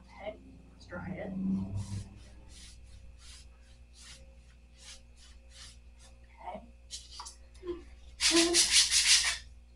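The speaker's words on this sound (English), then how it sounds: "I might clean these off and try to sand them a little bit" Repainted furniture is sanded by hand, a series of short, regular rasping strokes close by, ending in a louder, harsher burst of scraping, with a person speaking briefly between the strokes.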